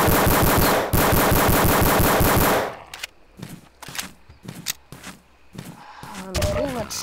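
Sustained automatic gunfire from a CZ weapon in the zombie-wave shooter Codename CURE, a loud rapid rattle for nearly three seconds, then scattered single shots and bursts in a quieter stretch.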